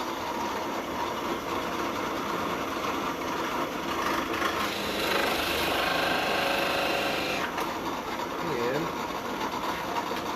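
Forstner bit drilling logo and tuner holes in wood, a steady grinding whir with a brief louder bite midway, heard close over constant motor noise while a voice talks at times.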